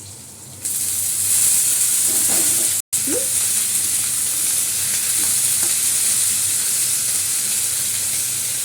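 Radish greens frying in a hot pan with chili and garlic give a loud, steady sizzle and hiss, with a few brief stirring scrapes and a short cut partway through.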